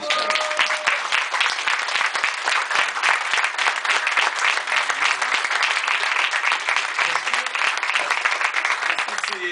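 An audience at a fan meeting for the series Hero Corp in Lille applauds, dense, loud and continuous clapping with a few voices mixed in throughout.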